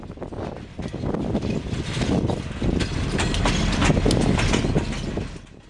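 A Canadian Pacific intermodal freight train with a mid-train pusher locomotive rolls past on the transcontinental mainline at Moose Jaw, Saskatchewan, a steady loud roar of railcars with rhythmic wheel clatter that swells and then fades at the end.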